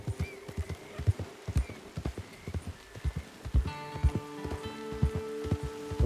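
Rain falls steadily in an open-world western video game while a horse trots. Rhythmic hoofbeats and a soft, constant patter of rain are close and clear, and bright chiming tones come in partway through.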